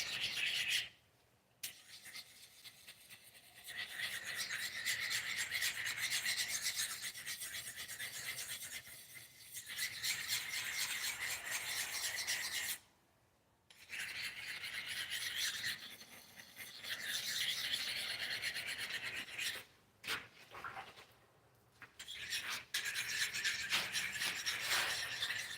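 An axe is sharpened on the coarse side of a combination stone, giving repeated gritty rasping strokes in steady bursts with short pauses between passes, close and clear, with no talking.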